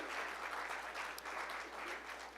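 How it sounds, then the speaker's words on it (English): An audience at an entrepreneur leadership talk gives a dense, steady round of applause, heard faint and a little distant, with no voices over it. "Let's give ourselves a round of applause."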